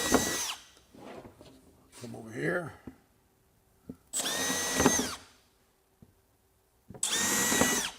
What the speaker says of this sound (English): So we'll drill through the center of that one, kind of drifting right across.